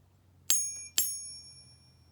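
A real 999 silver bar is struck twice in quick succession, each tap giving a bright, high, bell-like ping that rings on and slowly fades in a quiet room.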